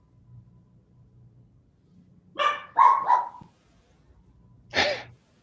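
A dog gives a few close barks and huffs in a quick cluster, then one more single bark after a short pause, over a quiet low hum.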